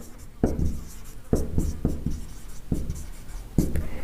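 Chalk writing on a classroom board during a chemistry lesson on carbon compounds, several distinct tapping strokes and scratches spaced irregularly, close and fairly clear with no talk.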